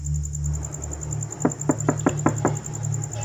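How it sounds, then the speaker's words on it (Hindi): Knocking on a door, six quick sharp raps in an even rhythm, close and clear over a steady low background hum, with no talk. "दरवाजे पर अचानक टक-टक होने लगी"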